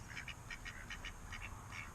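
Several short duck quacks in quick irregular bursts, moderately close, on a farm, over a steady low rumble of background noise.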